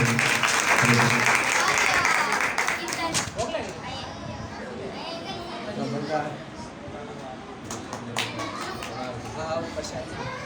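Devotees applaud loudly at an ISKCON Hyderabad Gaura Purnima celebration, a dense burst of clapping in the opening seconds that thins out beneath children's voices and chatter, with talk running through.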